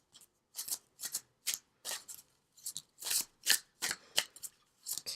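Angel oracle cards being shuffled by hand, heard as about a dozen close, crisp riffling bursts at a steady pace, with no talking.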